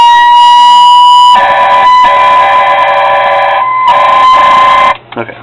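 A loud electronic siren from a custom 1:16 scale model of a 1975 GMC C-65 fire truck blaring close by with a steady wailing tone, cutting out briefly a few times before stopping abruptly.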